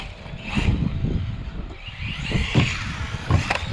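A Haiboxing 18859A RC truck with a brushless motor accelerates on a driveway, with a whirring motor and rough bursts of tyre and ground noise that swell and fade several times.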